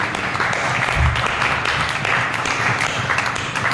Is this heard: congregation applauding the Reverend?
yes